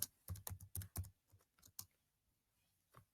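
Crisp clicks of typing on a computer keyboard, a quick cluster of keystrokes followed by sparser, softer taps and a final isolated press, close and quiet in an otherwise still room.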